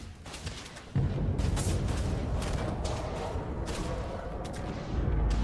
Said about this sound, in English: let's throw a couple of frag mines out for our friends